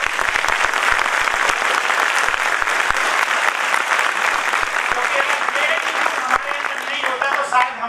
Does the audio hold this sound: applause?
yes